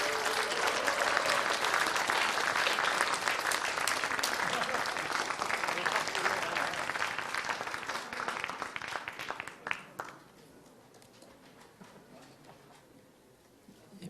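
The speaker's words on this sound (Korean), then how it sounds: "큰 박수로 환영해 주십시오." Big crowd applause greets presidential candidate Yoon Suk-yeol at the People Power Party nomination event, dense and sustained clapping for about ten seconds before it dies away into quiet murmur.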